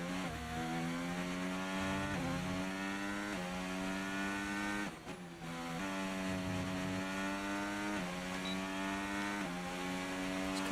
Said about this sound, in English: How does the Renault engine sound in game?